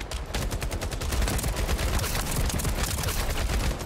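An LMG with a large 180-round magazine fires long continuous bursts in The First Descendant video game, a loud, dense stream of rapid gunshots with no pauses.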